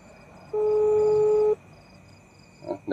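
A phone video call rings out once with a steady one-second tone, then goes quiet with no answer, followed by faint rustling.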